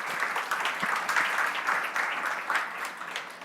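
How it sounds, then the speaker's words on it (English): A crowd at a hands-on tech lab session applauds its team, a dense, steady clapping that holds throughout the few seconds without pause. "Applause for our people."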